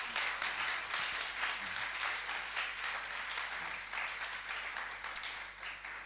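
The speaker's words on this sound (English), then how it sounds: "So an applause to all." Applause from attendees at a civil society and communities side event, a continuous textured patter of clapping heard at modest, somewhat distant level throughout.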